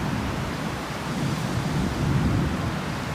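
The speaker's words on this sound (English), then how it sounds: "More wind is kicking up." Steady rushing wind noise, broadband and continuous, swelling slightly, with no voices, as severe thunderstorms approach in northern Michigan.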